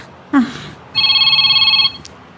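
A cellphone rings with a steady electronic tone lasting about a second, close and clear, following a brief rising burst at the start; the scene is an Ilocano-language drama.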